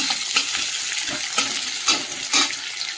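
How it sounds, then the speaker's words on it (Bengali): Sliced onion and chili fry in oil in a kadai, a loud, close hiss broken by rhythmic bursts of crackling as the pieces are stirred. "ওই তেলের মধ্যে পেঁয়াজটাও ভেজে নেব, পেঁয়াজটা ভেজে তুলে নেব।"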